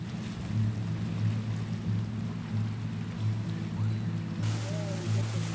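The diesel engine of the tour boat MV Handle chugs steadily across southern Cayuga Lake, a continuous low throbbing drone with a regular pulsing rhythm under wind and water noise.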